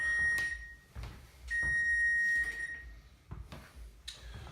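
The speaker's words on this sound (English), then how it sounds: "that's the alarm right now" A high electronic kitchen timer alarm beeps in short bursts and one longer tone while quiche muffins bake, mixed with clattering and handling noises nearby.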